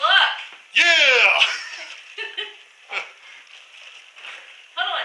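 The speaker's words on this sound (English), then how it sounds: "Woo, dogs!" Dogs in a garage let out excited yelps, whimpers and a few barks, loud and close, broken by short pauses, with people talking and laughing in between.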